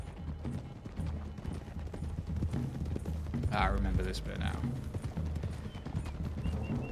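Horse hooves clip-clop steadily along a road in the video game Red Dead Redemption 2, a rhythmic trot under someone speaking over the gameplay.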